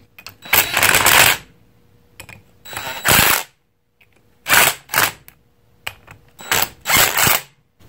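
Ratcheting clicks from a wrench torquing the ring gear bolts on a Ford 9 inch differential, coming in several short close bursts separated by brief pauses.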